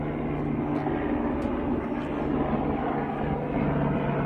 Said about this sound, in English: I'm in some kind of helicopter flight path.